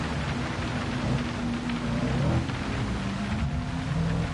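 Steady heavy rain pours throughout a wet-weather race in the driving game Gran Turismo 7, with engine drone faintly underneath and a broad, constant wash of sound with no speech.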